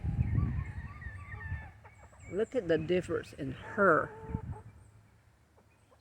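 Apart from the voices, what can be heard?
Barred Rock chicken chick clucking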